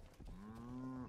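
A cow in the video game Rustler gives one close, clear, low moo that swells and holds for about a second.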